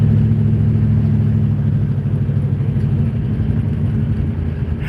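A deep, throaty engine of a Plymouth Barracuda muscle car rumbles steadily and loudly up close, a low idling growl with slight pulsing and no voices.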